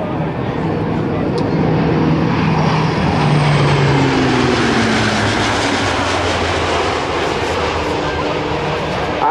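A Lockheed C-130J-30 Hercules turboprop roars past at an air national guard airshow, a loud continuous engine drone filling the whole stretch while an announcer talks over it.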